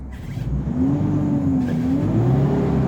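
A Mitsubishi Triton 2.5 four-door lifted pickup truck engine starts and runs loudly nearby, idling and revving with a rising and falling rumble, no talking.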